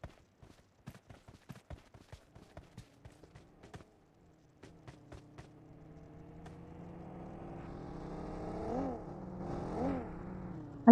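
In PUBG Mobile, a run of quick footsteps is followed by a game vehicle's engine that swells from faint to louder as it nears, its pitch wavering as it drives close by.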